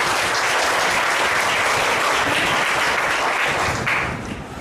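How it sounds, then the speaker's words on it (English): A big round of applause from a lecture audience for a guest speaker, loud and sustained clapping from many people that fills the room before tapering off at the end. "I think our speaker deserves a big round of applause for him."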